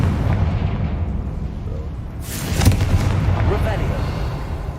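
A Confringo explosive spell blast goes off in a Harry Potter video game, a single broad burst with a lingering rumble rising out of steady low background noise midway through.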